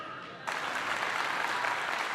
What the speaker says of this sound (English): Why are people clapping for that?